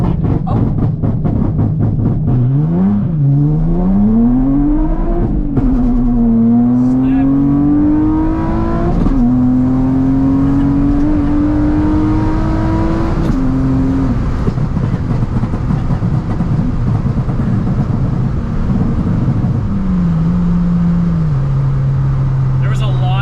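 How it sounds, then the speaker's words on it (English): A Nissan 350Z launching from standstill on fairly stiff tires, the engine revving hard and climbing through sustained pulls with gear changes, loud and close, with a voice talking over it. "There was a lot of slip in that launch."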